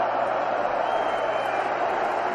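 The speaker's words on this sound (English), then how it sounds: "Ali gets a hand from the tremendous crowd here at 20th of May Stadium" A huge boxing crowd at the 20th of May Stadium during the 1974 Ali–Foreman heavyweight title fight, roaring and applauding in a steady wash of noise, with a voice faintly audible.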